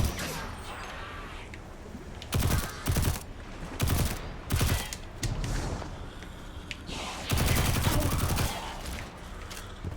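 Scion enemies in Destiny 2 fire their guns, producing repeated loud bursts of gunfire and blasts in clusters over a constant background din of battle.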